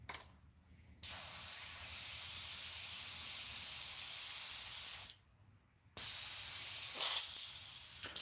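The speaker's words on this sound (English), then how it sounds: "So let's get this airbrush all cleaned out here." Airbrush blasting a steady hiss of spray while black paint is flushed out during lure painting, two long bursts of about four seconds and two seconds separated by a brief silent pause, close and loud.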